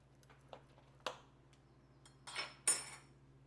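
A knife slicing open a cooked, juicy meatball on a plate, giving a few soft cuts and light clinks of metal against the plate, close and quiet with no talk.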